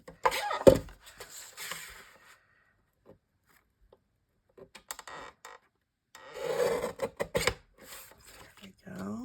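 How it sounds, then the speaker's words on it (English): A small unbranded tabletop paper trimmer slices through paper in a few short rasping strokes separated by quiet pauses, with a soft voice murmuring nearby. "This is certainly a very handy little trimmer."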